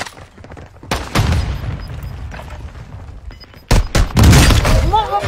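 A grenade blast in a battle-royale style video game erupts as a loud booming burst with crackling debris, preceded by a softer thump and gunfire, with a person's voice talking over it.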